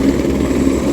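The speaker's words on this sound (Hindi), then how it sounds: "ये देखो एक और दूसरा हेलीकॉप्टर भी आ चुका है।" A helicopter runs at a mountain helipad near Kedarnath in a loud, steady, close engine and rotor drone with no distinct pauses.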